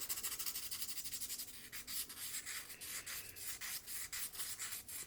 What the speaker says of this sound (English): I grab a piece of sandpaper and I kind of just start sanding this edge here